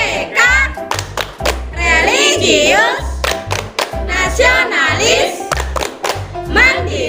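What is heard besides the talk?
rhythmic PPK clapping by class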